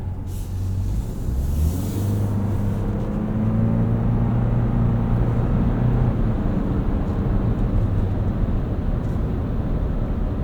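A 2024 Toyota Land Cruiser First Edition hybrid driving on a city street, a steady low engine and road drone with a tonal hum rising and shifting as it accelerates, continuous and fairly loud from inside the cabin.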